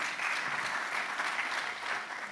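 A seated assembly at a French session on territories and health policy breaks into full, sustained applause, a thick even wash of many hands clapping with no voices on top.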